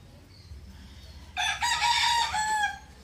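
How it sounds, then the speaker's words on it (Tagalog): A rooster crows once, loud and close, after a quiet start with faint background noise. "May mga manok dyan si Busing,"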